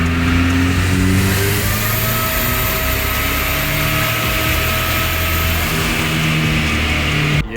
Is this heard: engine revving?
yes